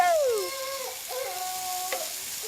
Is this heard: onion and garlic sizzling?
yes